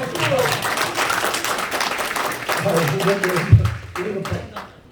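Audience applause fills a lecture hall auditorium during a special lecture and prayer meeting, a steady wash of clapping with voices talking over it and a brief louder thump near the end.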